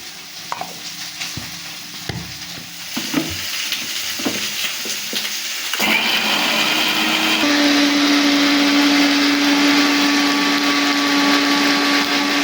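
A mixer grinder whirs loudly and steadily as it grinds mustard, cumin, poppy seeds and green chilli with water, following a few scattered clinks and handling knocks.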